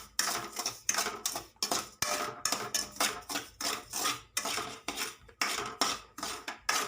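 Stirring and dry roasting in a pan for kesari, a rhythmic series of scraping strokes of a spoon against the pan, each swish rising and fading in quick regular bursts, close and alone.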